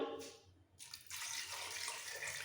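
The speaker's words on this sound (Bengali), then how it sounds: "চিলি পাউডার এবার দেব জল" Water is poured from a vessel into a pot of new potatoes seasoned with chili powder, a close splashing pour that starts after a brief quiet moment and continues steadily.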